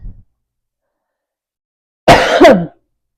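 A single loud, harsh cough bursts out close by after a stretch of silence, ending with a rough, throaty rasp.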